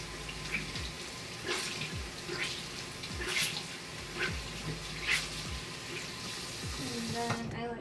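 Tap water runs steadily over a makeup sponge as it is wetted, a soft continuous splashing stream with a few squishy surges, quiet and close.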